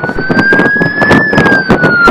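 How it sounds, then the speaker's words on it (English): A police siren played from a smartphone app wails, rising and falling in a steady electronic tone, loud and close, over a rumbling background of traffic or engine noise. "Though you can hear a siren, it's actually cell phone video"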